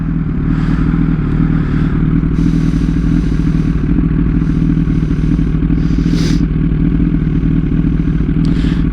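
A motorcycle rides through heavy traffic in first and second gear, its engine drumming loud and close throughout with rising and falling revs, plus bursts of wind and road rumble.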